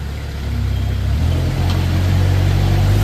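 A 2014 Moffett M55 truck-mounted forklift drives along, its engine a steady, continuous low hum that builds slightly in loudness, close and unbroken with no talking.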